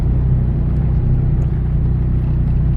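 A 10th-generation Honda Civic with an aftermarket exhaust gives off a steady, deep low rumble, heard up close and loud with no talking over it.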